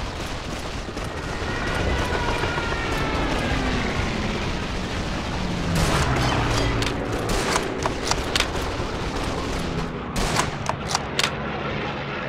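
Aircraft drone overhead amid dense gunfire in the Call of Duty 2 video game, a continuous loud roar of engines layered with rattling bursts of shots and sharper cracks that cluster toward the end.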